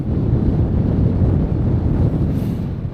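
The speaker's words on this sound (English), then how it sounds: "An absolute stunning morning if it weren't for that wind." Strong wind buffets the microphone on a snow-covered winter mountain, Stybarrow Dodd, a steady loud low roar with gusts that holds throughout and eases slightly toward the end.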